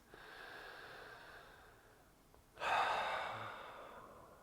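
A deep, audible breath during a yoga strength and mobility session: a softer breathy inhale builds, then a strong, close, noisy exhale bursts out and slowly trails away, with no talking.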